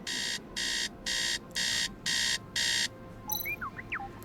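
A robot's alarm in the Tales of the Neon Sea cyberpunk detective game beeps six times in an even, loud rhythm, followed by brief electronic chirps and warbles, with no voices.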